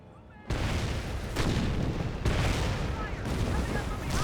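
An artillery barrage in the video game Company of Heroes, with dense, rumbling blasts hitting in a steady loud wash and heavier impacts landing every second or so, with no voices over them.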